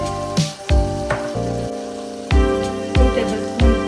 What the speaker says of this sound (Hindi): चिकन कवर करके कुक करते हुए, फ्राई करते हुए